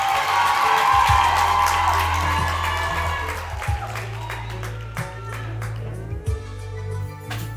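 Pageant audience at a university king and queen event applauds and cheers, a dense burst of clapping with whoops that slowly thins out, over a low steady hum.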